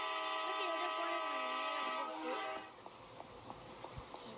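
Small train in the video game Indian Theft Auto sounds a wavering, tonal horn-like whistle that fades out, followed by a soft run of regular rhythmic clacks as it rolls along, fairly faint overall.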